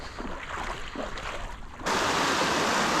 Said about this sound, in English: pretty looking stream here.